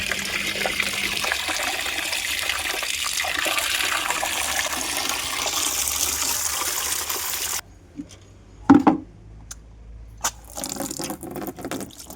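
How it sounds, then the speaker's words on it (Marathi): Water is poured steadily into amboli batter for several seconds, a continuous rushing, splashing stream that then stops abruptly and is followed by a few scattered knocks and faint noises. "इथे पहा आम्ही आंबोळीसाठी पाणी देते"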